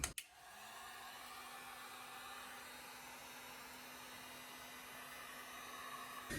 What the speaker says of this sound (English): heat that resin up with my heat gun